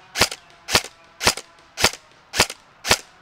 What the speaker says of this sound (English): We're going to try and send some rounds with the H&K 416 from here and see how it performs.